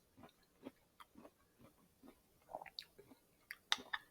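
Someone chews a crunchy mouthful of stir-fried Szechuan vegetables topped with toasted sesame seeds. The bites are faint and close, falling in a steady rhythm about every half second, with no talking.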